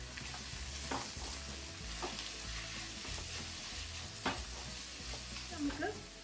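Spice powders sautéing in a pan for paneer jalfrezi, a steady close sizzle with a spoon scraping and stirring through it in irregular strokes, no voices.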